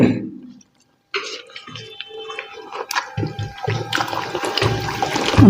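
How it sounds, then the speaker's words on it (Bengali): Thin rohu fish curry broth is ladled over rice and vegetables in a home kitchen in Darjeeling, with close liquid pours, wet splashes and soft spoon clinks that build to a busy clatter near the end. "একটু ঝোল আর একটু নিলাম"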